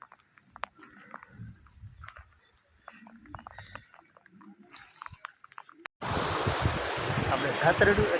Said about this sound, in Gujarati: નદી અત્યારે બહાટી બોલાવે જાય છે